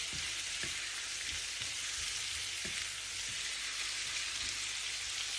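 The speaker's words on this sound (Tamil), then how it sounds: "இறால் சிவப்பாக வதந்ததுக்கு நாங்கள் அதை வதக்குவோம்." Prawns sautéing in a pan for a tamarind prawn and potato curry give a steady, close, loud frying sizzle that hisses continuously like rain, with a few faint clicks underneath and no talking.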